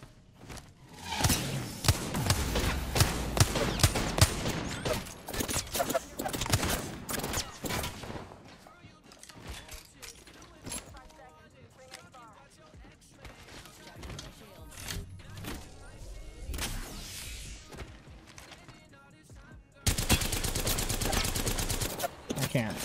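Gunfire in a video game, with bursts of rapid shots and thuds that come and go, a loud stretch at the start and a renewed burst near the end, quieter clicking and impacts between them.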